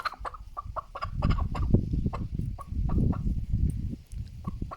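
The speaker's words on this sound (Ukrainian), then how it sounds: "Курка." Chickens cluck and murmur together in a backyard flock, a busy stream of short overlapping clucks with a few sharper calls, moderately close and steady throughout, with no one talking.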